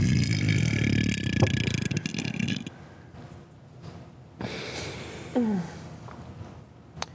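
A person lets out a long, loud burp that fades out. After a quiet gap come a couple of shorter burps and croaky voice sounds. The sounds are close and have no talk over them.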